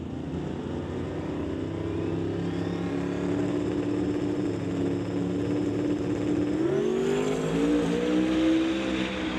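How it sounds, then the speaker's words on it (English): A drag race between a Chevy Nova and a 2000 Ford Mustang on an outlaw 275 strip, engines droning loud and continuous, then rising in pitch as the cars accelerate hard, heard from a distance with no talk. "It is going to be a close drag race at the stripe"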